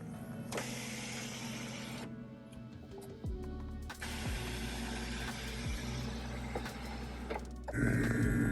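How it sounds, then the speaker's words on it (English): A steady electric whir of a fuel pump hums inside a Cadillac Escalade, cutting in and out several times against a low mechanical drone, with no talking. "That sound is the fuel pump."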